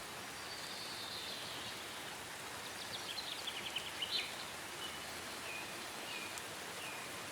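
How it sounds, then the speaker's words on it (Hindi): Steady rain hisses softly in the background, with faint chirps of birds or insects scattered over the patter. "देख नहीं रही बारिश बहुत ज़्यादा तेज़ हो रही है"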